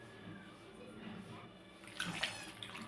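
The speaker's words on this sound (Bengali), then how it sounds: "এবারে আমি জল ঢেলে দেবো" Water pours into a cooking pot of lightly fried spices and vegetables, a soft splashing rush that grows louder and more bubbly toward the end, with faint voices in the background.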